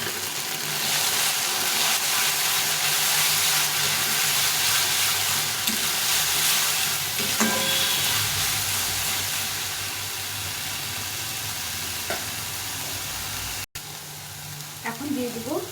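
Onion and garlic paste frying in a spice masala for a simple pea ghugni, a loud steady sizzle and hiss with occasional stirring scrapes, the heat easing slightly toward the end.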